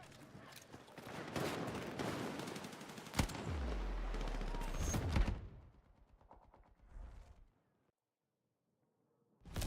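Gunfire in the video game Battlefield, dense bursts of automatic fire with a few heavier bangs over several seconds before it fades to quiet.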